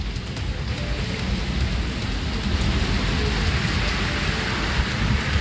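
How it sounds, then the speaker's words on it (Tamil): Heavy rain pours down during a thunderstorm in Natham, Tamil Nadu, a dense, unbroken roar of drops on surfaces that stays loud and even throughout, with no voices. "இடி மின்னலுடன் கூடிய பலத்த மழை பெய்தது"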